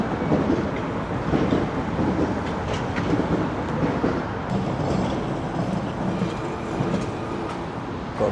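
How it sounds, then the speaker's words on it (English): A London Underground Jubilee Line train rumbles past with steady clattering wheels and a continuous roar, heard from nearby throughout. "There's a Jubilee Line train there."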